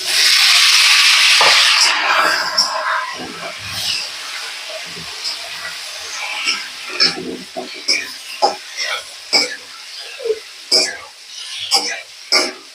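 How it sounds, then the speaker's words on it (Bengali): Boiled potatoes stirred and fried in a pan for a chhana (fresh cheese) and potato curry: a loud steady sizzle for the first two seconds gives way to a series of short, irregular spatula scrapes and stirs over a faint background hiss. "আলুগুলো কিছু নেড়ে চেড়ে ভালো করে কষিয়ে নেব"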